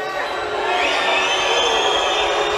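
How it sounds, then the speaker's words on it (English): A large arena crowd at a men's sabre team fencing match in Budapest, Hungary against Korea, roars in a dense sustained wave of voices that swells and holds, loud and continuous throughout. "The crowd's booing, but Szilagyi's asking them to stop."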